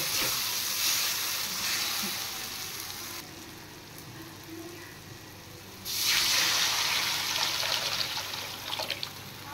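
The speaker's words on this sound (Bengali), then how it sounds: "মশলা ফ্রাই হয়ে গেছে, এবার আমি দিয়ে দেব জল।" Water is poured into hot oil with fried spice paste of turmeric, salt and chilli powder for a fish curry, giving a loud steady sizzle and hiss that eases midway, then surges again up close.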